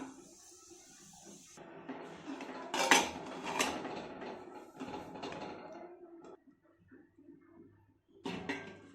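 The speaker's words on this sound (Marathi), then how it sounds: "कुकर थंड झालं आता आपण याचं झाकण काढू" Lid of a cooled pressure cooker being removed after cooking green moong and rice khichdi, a sequence of close metallic clanks, scrapes and rattles with quieter pauses and a final clatter.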